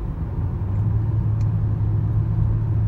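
A car climbs a hill road near Eugene, Oregon, heard from inside as a steady, close low engine and road rumble that holds even throughout, with no talk.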